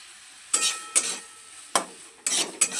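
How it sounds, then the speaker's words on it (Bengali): Vegetables for a semolina uttapam are stirred in a pan, five distinct scraping strokes at uneven intervals over a faint background sizzle. "সবজিগুলো ভাজা ভাজা করে নেব।"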